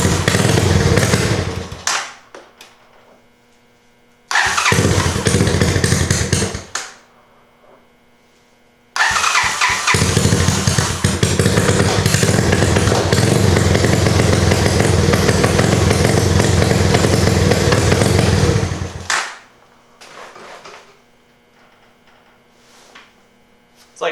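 A Honda Fourtrax 200SX quad with a fault after a new CDI box fires up in loud bursts that die out, running for a longer stretch before cutting off, with a steady electrical hum in the pauses.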